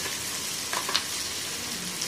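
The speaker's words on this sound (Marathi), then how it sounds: "हा सुद्धा छान बदामी कलरला येईपर्यंत भाजून घ्यायचा." Finely chopped onion fries in hot oil with cumin and mustard seeds, a dense close sizzle with a few brief stirring clicks, no talking.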